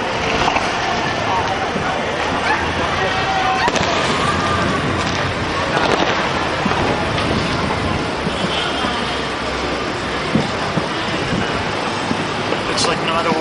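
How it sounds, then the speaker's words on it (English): A fireworks display over Bangkok at New Year 2009 crackles and pops continuously as a dense wash of distant bursts, with crowd noise and talk mixed in throughout. "you see a great display of fireworks."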